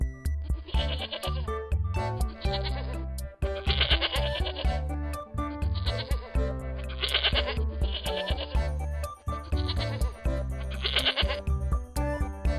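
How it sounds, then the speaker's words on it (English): Goat bleats in a farm-animal sound sequence for children, heard as repeated wavering cries in bursts roughly every two seconds over a steady musical background. "Goat."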